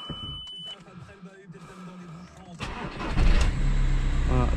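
Audi A4 2.0 TDI diesel engine cranks and catches during a servicing check, settling into a loud, close idle after a quieter stretch with a person talking nearby.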